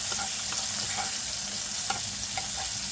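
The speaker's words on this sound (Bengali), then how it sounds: "রসুন বাটাটা দিয়ে কিছুক্ষণ নাড়াচাড়া করে" Garlic paste fries with softened tomatoes in a pan. A steady, dense sizzle fills the clip while a spoon stirs with light, intermittent scraping taps close by. No voices.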